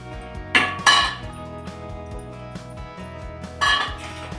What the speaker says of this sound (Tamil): இப்போ எல்லாத்தையும் போட்டு மிக்ஸ் பண்ணிக்கலாம்.